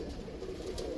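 A large, strong-bodied golden pigeon gives a brief low coo, near and steady, over a soft background hum.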